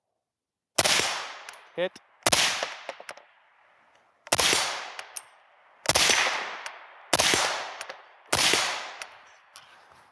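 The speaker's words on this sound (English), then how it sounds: "let's go fire a round or 2 down range, see how it runs" Six loud rifle shots fired through a Rugged Surge suppressor at an outdoor range, spaced unevenly over several seconds, each a sharp crack with a short decaying tail; a brief metallic ping follows the first shot, and a voice calls out once.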